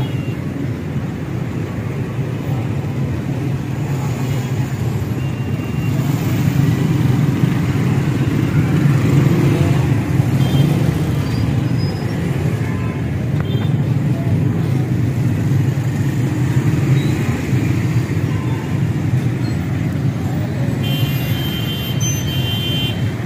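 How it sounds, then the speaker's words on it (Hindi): A heavy traffic jam on Kashmir Road in Sialkot rumbles as a continuous low drone of idling and creeping engines, a loud, steady wash of motor noise across the whole stretch. "शदीद ट्रैफिक ब्लॉक है, शदीद"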